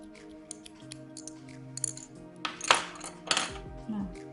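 Scissors cutting yarn for a crocheted rabbit candy box, with a few close, crisp snips and clicks of the blades that build to two louder cuts near the end over light handling noise.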